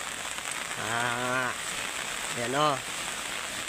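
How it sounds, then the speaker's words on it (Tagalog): Heavy typhoon rain from Typhoon Kristine pours steadily across Masbate Province in a broad, constant hiss, while someone speaks twice over it and a dog wanders nearby. "malakas pa ang ulan kahit medyo maliwanag na"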